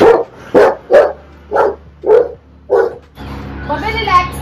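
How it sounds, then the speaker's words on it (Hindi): A Rottweiler barks six times in a steady, evenly spaced series of loud, close, deep woofs, then breaks into softer whining yips while a person talks. "चलो अब ये देखिए भौंकेगा"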